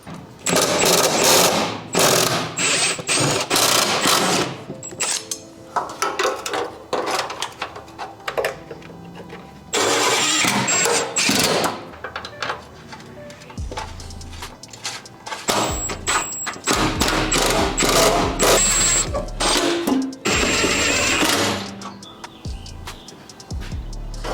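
Heat shields are bolted back onto the underside of a 2014 Honda Civic Si with a power tool, producing repeated loud bursts of rattling, whirring driving separated by short pauses and clanks of handling.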